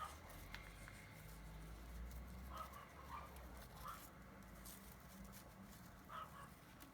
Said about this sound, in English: that's why the dogs are going mad.